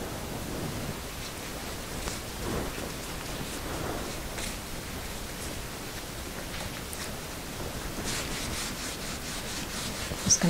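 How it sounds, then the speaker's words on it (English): A dry paper towel rubs paint into a tile, giving a steady, soft scrubbing hiss with faint rhythmic strokes, close and continuous for about ten seconds with no talk. "I'm just going to kind of rub this paint into the thing."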